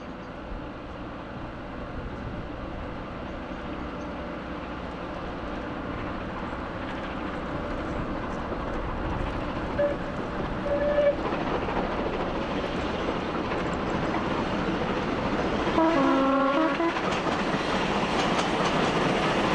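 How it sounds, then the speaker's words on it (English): Merchant Navy steam locomotive Clan Line powers away from a junction hauling a train, a steady rumbling roar with rhythmic rail clatter that swells gradually louder, with a few brief whistle-like tones partway through. "Clan Line powers away from Northern Junction with the return working to Victoria"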